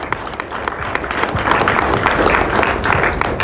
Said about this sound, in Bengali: জোরে জোরে হাততালি, ফাটিয়ে হাততালি,